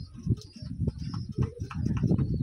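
Pigeons coo close by in soft, low, throaty pulses, repeating irregularly with a few faint higher chirps.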